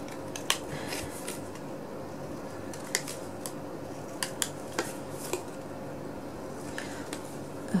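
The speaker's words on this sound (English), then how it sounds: "now just cut the edges." Scissors cutting the edges of cardstock for a handmade camera box, crisp close snips coming at irregular intervals over a faint steady room hum.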